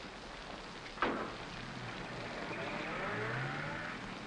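Steady rain falling around a car at night in a 1947 film noir scene, a constant soft hiss with a single dull thud early on and no one speaking.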